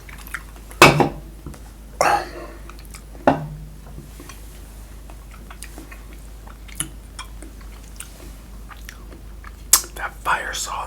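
Close, crisp bites and chewing of Caulipower cauliflower-crust pizza at intervals, with a few louder crunchy bites, light clinks like cutlery or plates, and quiet mouth noises between them.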